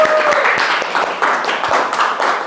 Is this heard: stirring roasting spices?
no